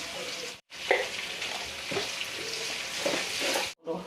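Onion, carrots, chillies and green beans frying in a pan for pulao, a loud steady sizzle with stirring scrapes, broken by two brief silent gaps.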